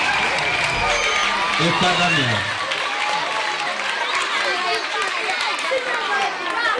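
Crowd applause and cheering for a contestant at a school quiz event, broad steady clapping with a few whoops under a voice on a microphone calling out the contestant's name.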